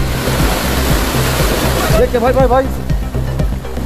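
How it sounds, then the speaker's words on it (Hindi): Fast, heavy floodwater rushing through a street in Hyderabad after a downpour, a loud continuous roar and slosh that fills the whole scene while people shout close by. "क्योंकि पानी बहुत स्पीड आ रहा है।"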